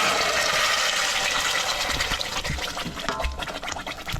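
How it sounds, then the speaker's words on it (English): Crushed Cento tomato hitting a hot pan with garlic, a loud broad sizzling hiss that bursts in at once and then slowly settles, with wet splattering and bubbling underneath and no talk. "We add the tomato."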